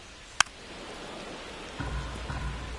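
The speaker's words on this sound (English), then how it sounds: "This rain is not letting up." Rain falling on a baseball game in MLB The Show, a steady soft hiss with one sharp crack early on and a low rumbling swell later.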